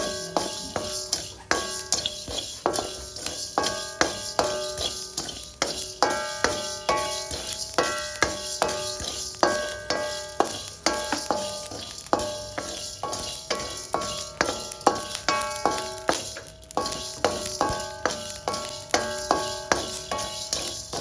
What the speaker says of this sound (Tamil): இதையும் நல்லா வாசம் வர வரைக்கும் வறுத்துட்டு